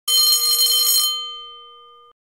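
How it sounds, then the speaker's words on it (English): A mechanical bell tone from a Hootronic electronic sounder rings as a loud, steady, bright tone for about a second, then cuts to a fading ring that holds for another second before stopping abruptly. "and tone 5, the mechanical bell for stage 3."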